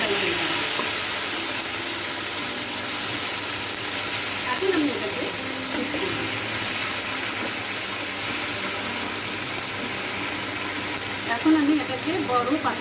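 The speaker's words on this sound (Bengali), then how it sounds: "আমরা যখন এটা কড়াইয়ে দেবো একটা স্যাপ করে শব্দ হবে" Onions going into a hot kadai for a beef and shatkora curry crackle and sizzle steadily, with a broad hiss throughout and brief bursts of stirring and scraping near the middle and end.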